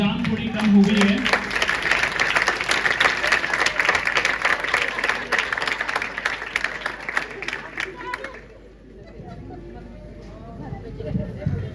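Applause from an audience at a village felicitation event, dense clapping sustained for about eight seconds, then fading out into quieter room sound.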